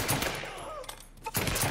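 Gunfire in the video game Mafia III: bursts of shots at the start and again near the end, with a quieter gap between them.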